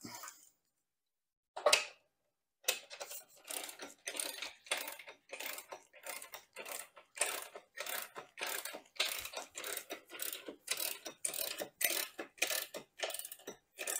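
A hand ratchet clicks in a long run of quick, evenly spaced strokes while tightening the chain adjuster on a Lifan KPR 200 motorcycle. It is close and fairly quiet, with one sharp knock and a short silence before the steady clicking begins.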